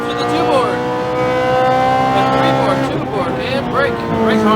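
Ferrari F430 driving on a Las Vegas track, its engine note loud and sustained with rising and falling pitch sweeps as it slows under braking, heard close and continuous.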